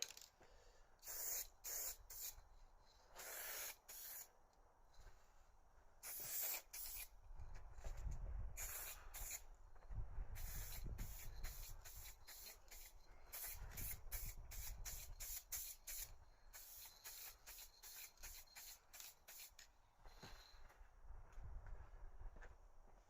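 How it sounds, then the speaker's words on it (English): A spray gun hisses metallic paint onto casework in repeated bursts, some short and some sustained, close up and steady, with no one talking. "now we're going to be spraying metallic"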